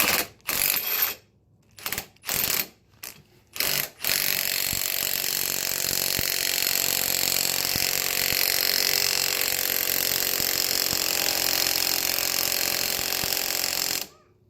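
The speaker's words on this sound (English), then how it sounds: "when I hit this gun, it should drive off that bushing" An impact gun with a C-clamp hammers on a 2000 Chevrolet Silverado lower control arm bushing, starting with several short loud bursts and then a long continuous rattling hammer of about ten seconds before it stops.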